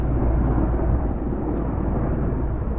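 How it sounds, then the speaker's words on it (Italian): The heavy, continuous roar of a water-carrying firefighting helicopter passes close overhead in Calabria, a thick low-frequency drone with no speech. "L'elicottero che porta l'acqua!"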